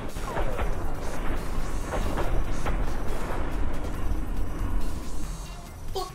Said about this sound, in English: Love the explosions,